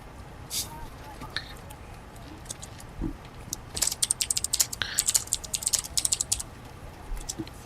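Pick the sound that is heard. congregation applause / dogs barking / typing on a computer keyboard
typing on a computer keyboard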